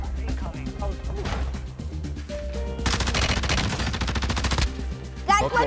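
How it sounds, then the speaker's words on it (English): Automatic gunfire in Call of Duty: Warzone rattles in repeated bursts, the heaviest being one long volley partway through, mixed with game sounds and players talking over it. "Oh shoot, I'm getting shot from my right."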